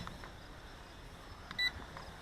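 Bayang Toys X16 Typhoon brushless drone controller with the right bumper pressed, giving a single short electronic beep about two-thirds of the way through, clear but brief over a quiet room background.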